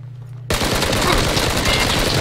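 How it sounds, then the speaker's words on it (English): Gunfire in PUBG breaks out suddenly after a quiet hum, turning into a loud, dense burst of rapid automatic shots that continues without pause to the end. "We're getting shot."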